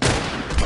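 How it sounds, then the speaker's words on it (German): A burst of gunfire in the video game The Last of Us, loud and close, with a sharp attack and booming low-end impact filling the short moment. "Da sollte ein Pistolenschuss ausreichen."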